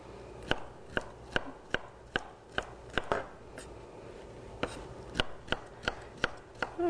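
Knife chopping a bell pepper into strips on a cutting board, with a string of sharp, close, distinct chops that come in uneven bursts and brief pauses, with no talk.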